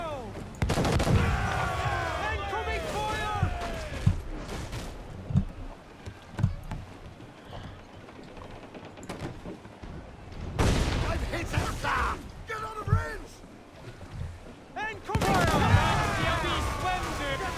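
Booming ship cannon blasts from a naval battle in Assassin's Creed IV, several shots in bursts amid shouting voices and crashing effects, loud and busy.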